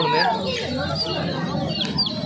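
Turkey chicks caged at a hen market cheep and chirp continuously, with other poultry clucking nearby in a busy, noisy marketplace, under a crowd murmur.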